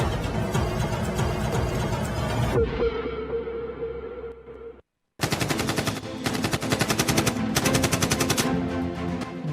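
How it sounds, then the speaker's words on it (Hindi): Gunfire during an anti-Naxal operation in the hills of Bijapur district: loud, rapid machine-gun bursts in rhythmic strings that pause, cut out briefly, then resume with sharp repeated volleys. "गोलियों की ये तड़तड़ाहट रह रहकर पिछले 4 दिनों से जारी है"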